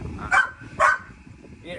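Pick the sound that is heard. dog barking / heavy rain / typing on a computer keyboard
dog barking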